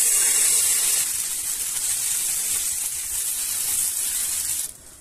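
Rice-flour batter mixed with cauliflower for pitha sizzles on a hot, lightly oiled tawa as a steady, close hiss that holds for several seconds, then drops off abruptly near the end.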